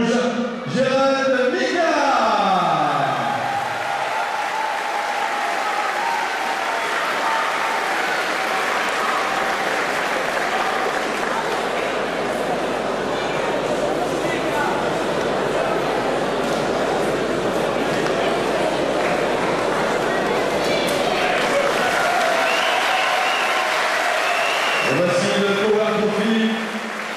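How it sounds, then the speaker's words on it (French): A gala crowd applauds two fighters after their bout, a dense, sustained roar of clapping lasting many seconds with a few voices mixed in. "Et on peut applaudir les deux combattants"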